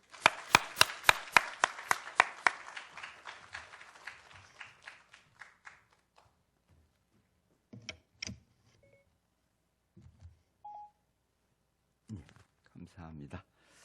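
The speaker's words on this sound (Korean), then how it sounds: "박수로 환영하겠습니다" Applause in a church welcoming a pastor at a special dawn prayer service: a burst of claps that fades over about five seconds, then a few scattered sounds and someone speaking.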